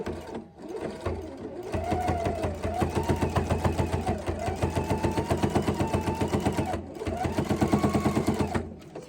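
A Husqvarna Viking sewing machine runs fast and nearly continuously while attaching binding to a quilt through a 5/8-inch binder foot, a dense rhythmic mechanical chatter with a few brief pauses and small speed swells.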